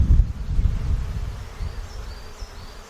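Honeybees buzzing in an open backyard hive during a brood inspection, a close low hum with rustling, louder at first and easing off.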